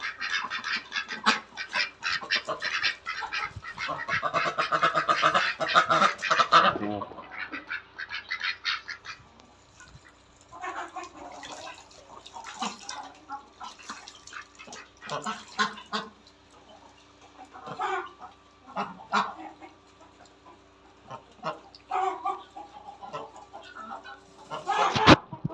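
Ducks quack and chickens cluck in a backyard garden, a busy mix of close, loud calls, densest in the first several seconds, then scattered bursts of quacking and clucking continuing throughout.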